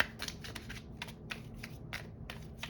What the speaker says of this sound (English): These are so awkward to shuffle, I swear.